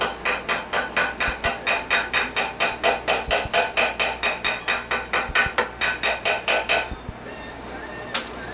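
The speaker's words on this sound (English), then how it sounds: "a plastic hammer, we hold it down, we just tap it" A plastic hammer taps fine silver into an inlay undercut: about two dozen quick, even, close taps in a steady rhythm, then a pause and one last lighter tap.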